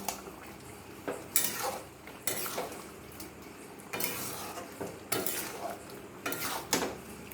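Thick milk-cashew jackfruit gravy with kasuri methi being stirred in a pan, a spoon scraping and clinking against the metal in several separate bursts over a low, steady simmering background.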